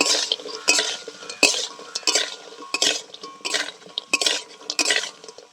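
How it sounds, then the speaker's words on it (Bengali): A spatula stirs and fries spices with pond-caught fish in a pan for a masala curry with lentil dumplings, giving repeated close scraping and clinking strokes in an uneven rhythm with a faint sizzle beneath and no talking. "এবার কিছুক্ষণ খুব ভালো করে আমি কষিয়ে নেব।"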